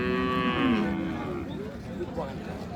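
Friesian cows with calves low at a busy rural cattle market in Dinajpur, one loud, close, drawn-out moo falling in pitch over a background of crowd murmur and livestock noise.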